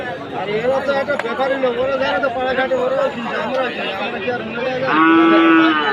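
Cattle and calves moo repeatedly at a livestock market in South 24 Parganas, with one long, loud low call near the end, over a steady murmur of crowd chatter.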